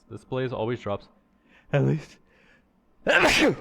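A single short sneeze bursts out near the end, loud and close, following two separate bursts of someone talking.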